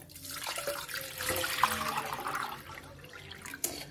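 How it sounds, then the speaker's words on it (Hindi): Tap water runs steadily into a cooking pot, about eight glasses' worth being filled for a chicken yakhni soup, a continuous splashing pour heard up close with no talking. "एक बर्तन में तकरीबन आठ गिलास आपने पानी डालना है"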